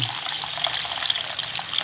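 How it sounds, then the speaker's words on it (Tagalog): Freshly boiled water poured from a kettle, a steady bright splashing gush of liquid running close by for about two seconds, with no talking. "Yung tubig sa takure, yung pinakulo ko na, nilagay ko"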